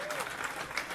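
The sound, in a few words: audience clapping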